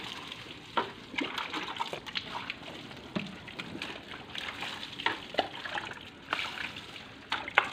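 Water poured from a dipper over a motorcycle during washing, a series of irregular close splashes and trickles separated by brief pauses.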